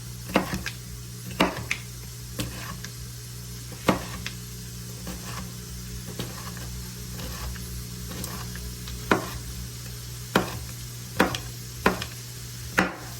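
Ingredients for pasta being chopped on a board in a home kitchen, about a dozen separate sharp knife taps spaced unevenly over a constant low hum, close and fairly soft with no talking.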